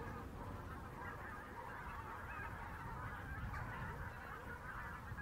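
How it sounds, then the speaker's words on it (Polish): Geese honking as they take off from water in a flooded Polish river valley, a continuous chorus of overlapping calls carrying from some distance over a steady outdoor background. "Tam właśnie wystartowały gęsi."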